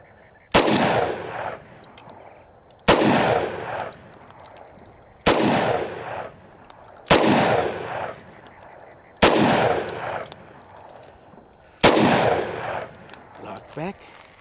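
Six loud, sharp pistol shots from a Tokarev fired at a paper target, spaced about two seconds apart, each with a booming echo that decays before the next.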